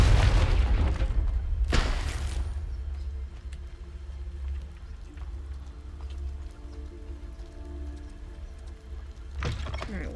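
A Confringo spell explosion in Hogwarts Legacy opens with a heavy, close boom. A sharp burst follows, then a low rumbling tail, and another thud comes near the end.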